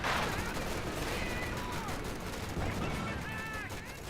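Crackling gunfire in Company of Heroes 2, a rapid jumble of shots beneath a speaking voice, steady and fairly busy throughout.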